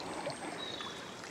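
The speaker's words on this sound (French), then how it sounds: "là vous avez l'eau qui chemine" A small woodland stream with water winding through meanders, giving a soft, steady broadband wash and trickle at low level, continuous and alone without voices.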